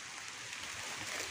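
Steady rain pours down in a continuous, even hiss with no breaks, heard at a moderate level.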